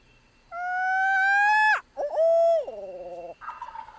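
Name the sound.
owl scream imitated with call by turkey hunter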